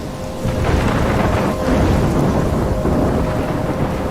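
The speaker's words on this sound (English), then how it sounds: "I'm trapped in a storm?" A heavy thunderstorm in the game Life is Strange: loud continuous rumbling thunder over dense pouring rain, steady and enveloping throughout with no voices.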